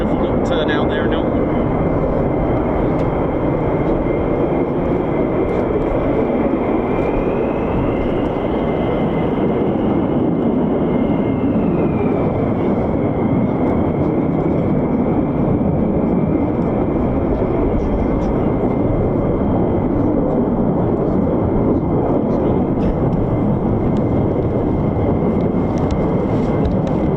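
A US Air Force F-15 fighter jet roars during takeoff with a loud, sustained, broadband engine rumble and whine that holds steady, and a pitch sweep rises and falls midway.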